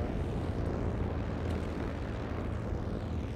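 A Yak-9 propeller plane drones in flight in the game Heroes and Generals, a steady dense engine roar that holds level throughout with no speech.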